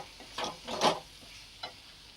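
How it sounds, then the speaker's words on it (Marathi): Soft cooked tomatoes being stirred in a pan for aloo palak bhaji, giving a few brief scraping, squelching strokes with a quiet pause between them and one last short scrape, fairly close and not loud. "परत आपण एकदा हे आता मिक्स करून घेऊ"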